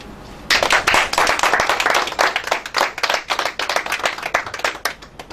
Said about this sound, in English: The least we can do for the commissioner today is to give a round of applause for being with us all